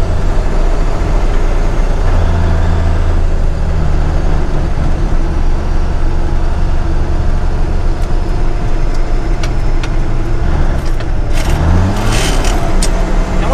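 A 10-wheel dump truck engine drones steadily while driving down the road, a loud continuous rumble with shifting engine tones and some rattling near the end.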